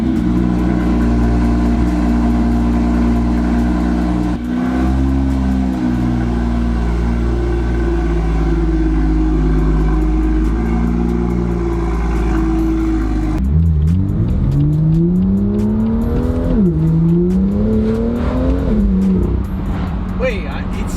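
A BMW M2 F87 fitted with a VRSF intercooler and charge pipe drives with a steady, loud engine drone from inside the cabin, then revs up and shifts through rising and falling pulls, with turbo airflow in the mix and people talking over it.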